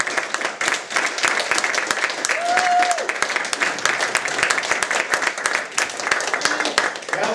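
Sustained audience applause for Pennsylvania Libertarian gubernatorial candidate Ken Krawchuk, a dense steady roar of many hands clapping in a hall, with a brief whistle partway through.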